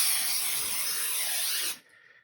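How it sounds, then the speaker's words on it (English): Cooking spray hisses steadily onto a baking pan for a couple of seconds, close and fairly loud, then cuts off abruptly, leaving quiet room sound. "make sure you spray down your pan"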